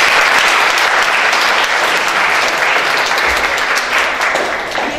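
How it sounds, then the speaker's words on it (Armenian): Applause from a concert audience for young violin-school graduates fills the hall loudly and steadily for several seconds, then eases slightly toward the end. "Ծափահարություն։"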